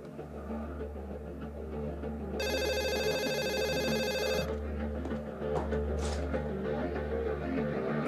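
A telephone rings once with a bright, trilling electronic ring lasting about two seconds, heard over a steady low indoor hum and faint room noise.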